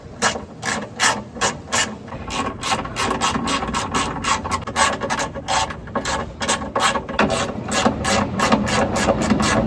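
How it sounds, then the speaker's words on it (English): A hand ratchet clicks steadily in quick, repeated bursts while loosening the four 13mm nuts of a Jeep TJ transmission mount on the skid plate, close and fairly loud with faint metallic rasping. "I'm first going to start by removing the 4 13mm nuts connecting to the bolts that hold the transmission mount into place on the skid plate"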